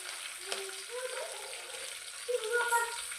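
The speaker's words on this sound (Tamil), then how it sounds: "முடிஞ்சது தாளிப்பு வேலை" Turmeric, green chillies, ginger and curry leaves hit hot oil for a tempering, giving a light crackling sizzle with small pops, while a voice talks over it.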